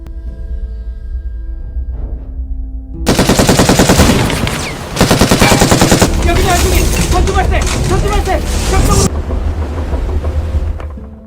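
Rapid machine-gun fire in a naval battle on the Yellow Sea erupts suddenly after a quiet low hum, loud and sustained in dense rattling bursts, then gives way to a rushing roar.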